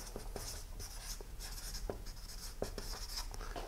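A pen writes on paper in quick, quiet scratching strokes with a few sharper taps, close by, with no talking.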